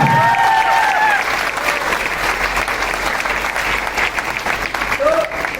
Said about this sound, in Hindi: मैं सर के लिए चाहता हूँ एक जोरदार तालियां होनी चाहिए थोड़ा।